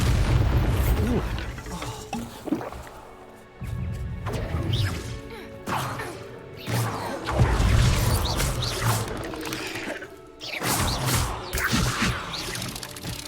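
A Bombarda spell blasting in the wizarding game Hogwarts Legacy gives repeated heavy crashing booms during a hectic fight, loud and close, with a man calling out spell names between the impacts.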